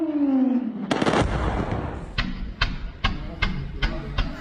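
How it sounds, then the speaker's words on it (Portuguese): Over Caracas in the early hours of a military attack, a descending whine gives way to a heavy blast, then a rhythmic string of sharp, distant explosions about every half second. "Os helicópteros e as explosões tomaram o céu de Caracas na madrugada de sábado."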